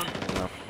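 Rapid automatic gunfire from a firefight in the tactical shooter Ghost Recon Wildlands, a dense close burst of shots that cuts off abruptly after about half a second.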